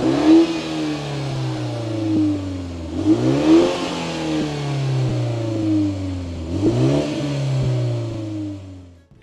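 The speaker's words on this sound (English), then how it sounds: "We're back again with another Drag Race." A BMW 330i accelerates hard in a drag race, its engine note climbing through repeated revving gear pulls with brief dips at each shift, loud and close throughout with no talking.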